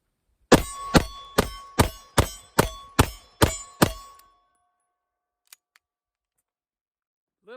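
A 9mm 1911 pistol fires at steel targets: eight sharp shots in quick even succession, each ringing with a metallic clang and short decay, followed by silence and a couple of faint ticks.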